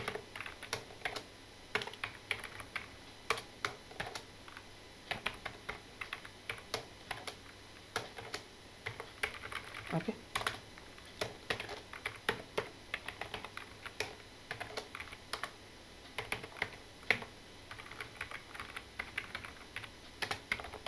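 HTML code is typed on a computer keyboard in a steady, uneven stream of light key clicks that runs the whole time with no talking, close and fairly quiet.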